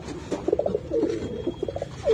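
Several pigeons coo in overlapping, rolling bursts at a loft, the calls steady and fairly close over a murmur of background noise.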